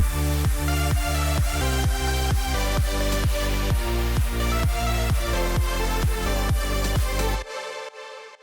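A pounding EDM drop from a remake hits hard with a steady four-on-the-floor kick and bright layered leads, then cuts off abruptly near the end.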